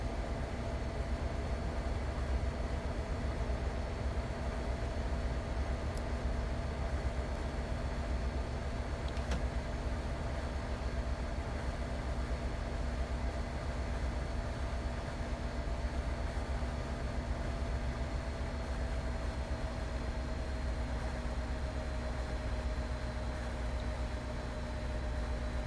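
An AC 4400 locomotive in the Train Sim World video game gives off a steady, droning engine rumble with a constant tonal hum, which holds at an even level throughout with no talking.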